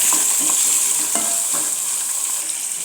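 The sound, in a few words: onion, curry leaves, mustard and cumin frying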